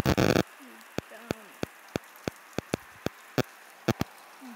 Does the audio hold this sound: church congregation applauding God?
no